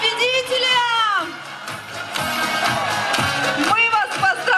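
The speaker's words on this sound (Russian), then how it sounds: "Аплодисменты победителям!" A crowd applauds and cheers for prize winners at an outdoor lottery during a village day celebration in Lenino, Crimea, with an announcer speaking loudly over the clapping.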